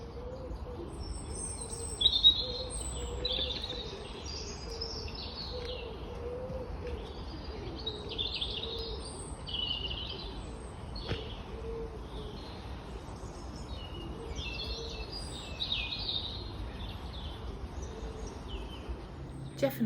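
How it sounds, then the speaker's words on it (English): Birds chirp and call repeatedly on an early morning walk outdoors, a busy overlapping chorus of small tweets at moderate distance over a soft steady background hum, with occasional dove-like cooing. "my morning walk is just a cacophony of birdsong"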